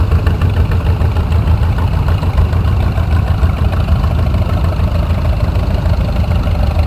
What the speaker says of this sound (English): Next up, we have a 1955 John Deere 40